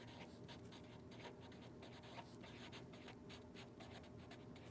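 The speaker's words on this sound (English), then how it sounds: "So let's just write that on both sides." A pen scratches across a writing surface during a basic college math lesson. The strokes come in quick, uneven bursts and stay faint and close, with no talking.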